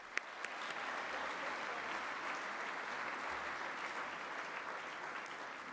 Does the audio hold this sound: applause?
yes